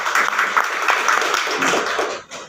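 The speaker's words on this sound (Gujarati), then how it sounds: "એક વર્ષ પહેલાં અમારા ગ્રેટ લીડર ભાનુભાઈ ભરવાડ માટે પહેલાં તો તાળી થઈ જાય" An audience at a health and wealth awareness meeting in a hotel applauds its leader, a dense, even burst of many hands clapping that fades out near the end.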